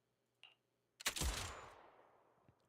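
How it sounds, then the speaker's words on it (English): A single crisp gunshot in the game Zenless Zone Zero rings out loud and close, preceded by a faint short click and trailing off in a long decaying echo, with no talk around it. "Just as you're about to retort, a crisp gunshot rings out."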